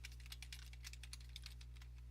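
Rapid typing on a computer keyboard while entries and a description are filled into an online registration form, a steady run of close, light key clicks over a low electrical hum, with no voices.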